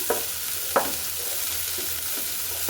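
Onion fries in a pan for a stingfish curry with bottle gourd, a constant close sizzle marked by a few sharp spatula scrapes and taps as it is stirred.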